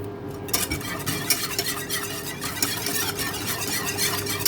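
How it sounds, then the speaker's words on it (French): A whisk beating a mixture rapidly and continuously in a bowl for a courgette gratin, producing a close, steady stream of fast metallic clicks and scrapes against the bowl. "On vient fouetter, fouetter, fouetter, fouetter."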